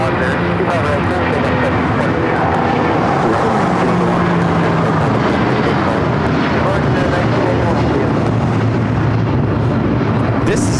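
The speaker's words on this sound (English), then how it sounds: "This is United Airlines 1981 taking off to Newark on the 757-200." United Airlines Boeing 757-200 taking off at LAX, a loud continuous jet engine roar filling the whole stretch, with tonal whine drifting across it, and a voice talking over the noise.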